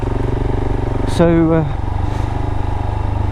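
A KTM 690 Duke motorcycle's single-cylinder engine runs steadily with a rhythmic, pulsing idle throughout, close and prominent, while a rider speaks briefly over it on a country lane.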